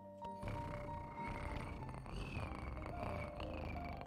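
A man imitates a cat purring with his voice, a steady low rumbling purr held continuously for several seconds, close and fairly loud, with no other talk over it.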